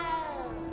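A cat meows in the Hogwarts Legacy video game, a single short tonal mew heard clearly and close with no talking over it.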